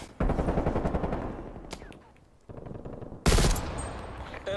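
Automatic gunfire in Call of Duty: Black Ops Cold War, several loud, close rapid-fire bursts separated by a brief lull, the last one sharp and heavy.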